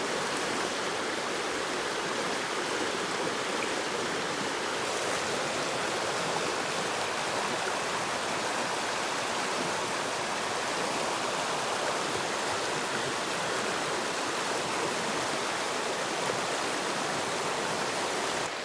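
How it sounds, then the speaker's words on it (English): Rushing stream water flows steadily and fairly loud, a constant broad splashing hiss with no pauses and no voices. "I love the sound of water."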